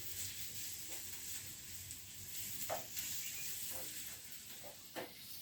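Ginger and garlic frying with golden-brown onions in a pan for meatballs, a faint steady sizzle with a few soft scrapes and taps from stirring.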